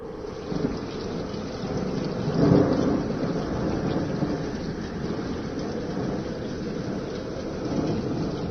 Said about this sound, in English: it'll wake to the revitalizing sound of raindrops